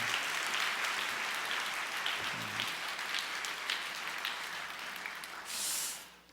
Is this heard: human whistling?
no